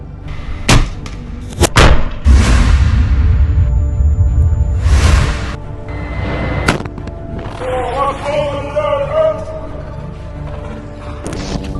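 Sharp loud blasts and rocket-launcher whooshes ring out in a Rafah combat attack on an Israeli Merkava military vehicle, several heavy booms in the first half, with voices chanting and shouting later.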